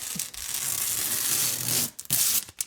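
A long, steady ripping-crackle of tape being pulled off a desk setup surface, close and continuous, then a pause and a couple of shorter tearing strips.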